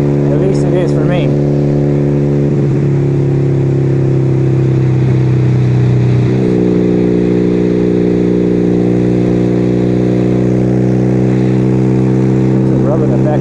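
Motorcycle engine droning steadily while riding country roads, a loud continuous hum with shifting pitch as the bike eases off and pulls again, close and constant under heavy wind rush, with someone talking over it.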